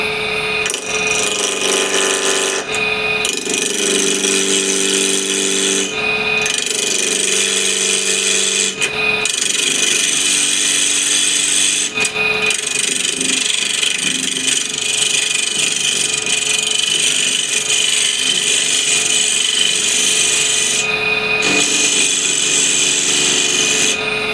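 A small skew chisel cuts a tenon on a spinning walnut burl blank on a wood lathe, giving a loud, steady scraping hiss broken by several short pauses as the tool lifts off, with the lathe's hum underneath.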